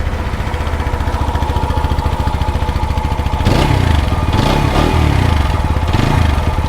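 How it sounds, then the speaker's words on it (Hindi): A TVS Apache RTR 160 4V motorcycle idles nearby with a steady, thumping single-cylinder exhaust beat. Midway through, the engine revs up several times in short blips, each one louder and rougher. "तो दोस्तों इस बाइक का एग्जॉस्ट नोट कुछ इस तरह से है।"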